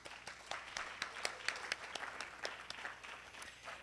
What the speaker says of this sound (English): I just want to do one more round of applause to our amazing artist and moderator this evening